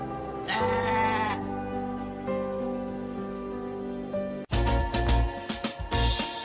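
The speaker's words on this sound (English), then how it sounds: "It's a goat." A goat near Hawes on the Pennine Way gives several wavering bleats, close and fairly quiet, with a sharp rustle or knock between calls outdoors.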